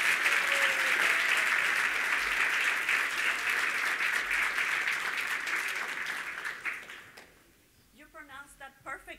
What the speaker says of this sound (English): So everyone give a big warm round of applause to Norma García from Telemundo